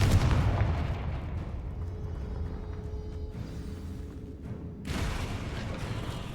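A Confringo fire spell explodes in Hogwarts Legacy with a loud, deep boom that rolls into a rumbling tail, then a fresh burst of noise cuts in near the end.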